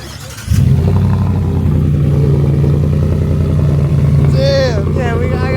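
A 2024 Mustang GT with a resonator delete X-pipe on the factory non-active exhaust starts up loud and close and holds a deep, steady rumbling idle. Voices speak over it near the end.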